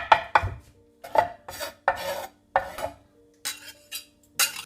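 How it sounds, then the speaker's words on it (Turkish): A knife chopping fresh dill on a cutting board, a series of separate crisp cuts in short irregular bursts with quiet pauses between them, close and fairly loud, with no talk. "Bir avuç dereotu. Her ikisi için. İnce ince kesin."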